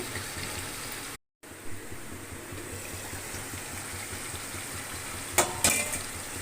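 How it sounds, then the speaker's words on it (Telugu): Crab curry simmers in a covered pot, giving a steady, close bubbling hiss that drops out briefly early on, with a couple of sharp clinks near the end. "పీతల కూర ఉడుగుతుంది"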